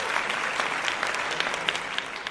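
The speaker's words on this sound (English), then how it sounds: "Give her some claps" A small live audience claps steadily for a guest on a live podcast, a dense, even patter of hands lasting a couple of seconds.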